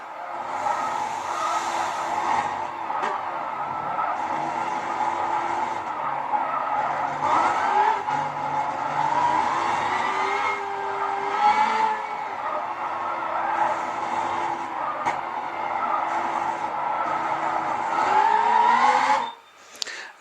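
A race car at Bathurst carrying about 45 kilos of rear-biased ballast, its engine droning steadily through a lap with tyres squealing and skidding in corners, loud and continuous before cutting off at the end.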